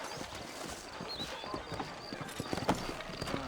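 Horse hooves clip-clopping at a walking pace in the Red Dead Redemption video game, set in New Orleans, a steady series of close hoof strikes over a soft ambient background.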